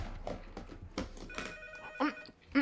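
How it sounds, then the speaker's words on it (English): A telephone rings in a horror video game, a few bright repeating rings in the second half over low background sounds and faint voice-like noise. "Wait, what's ringing? Oh, the phone."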